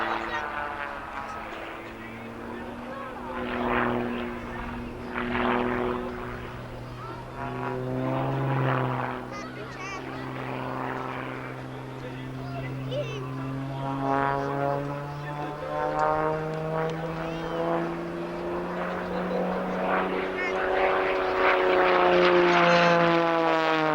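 A propeller aerobatic aircraft performs a rolling display at a 1990 RAF Abingdon airshow, its engine droning with strong harmonic tones that swell and shift in pitch as it climbs and rolls, under steady commentary.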